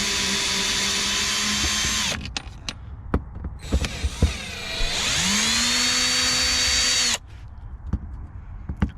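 A drill drives out screws from the interior of a 1980s Corvette: one long whirring run, a pause filled with sharp clicks and knocks, then a second whine that winds up in pitch and cuts off abruptly.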